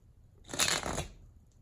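A deck of tarot cards shuffled once, a brief soft riffle that swells and fades over about a second, close and fairly quiet.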